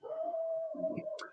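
A dog lets out one long, sustained howl close to the microphone, holding a single steady pitch before it breaks into softer whimpering yips at the end.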